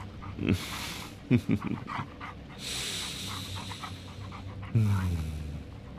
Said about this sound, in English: don't mind the dogs, I promise. They're good boys.